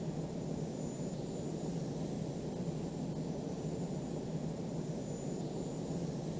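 A steady, unbroken roar from an F-14D jet engine in the flight simulator game Falcon 4 Allied Force holds at an even, moderate level the whole time, with no voices.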